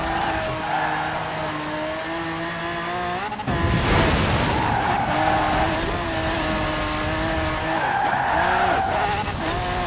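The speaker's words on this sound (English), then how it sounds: "nice drift into there." A Bugatti Veyron in Forza Horizon 4 roars loudly as it drifts across dirt, a long tire skid cutting in partway through over the sustained high-revving engine.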